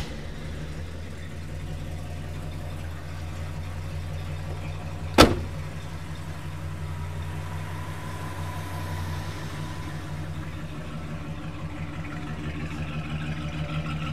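A 1968 Mercury Park Lane's engine with factory dual exhaust idles with a steady low rumble, and a single sharp click sounds early on. The exhaust note stays even throughout.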